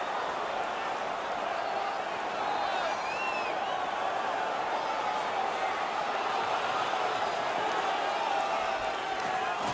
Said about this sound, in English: They're making all kinds of noise.